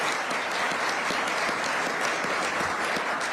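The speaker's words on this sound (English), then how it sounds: "Let's give another round of applause for this team." An audience at Governor Kathy Hochul's 2026 state budget address applauds her team with sustained, even clapping from a full room, dense and constant throughout without a break.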